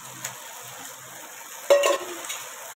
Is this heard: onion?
yes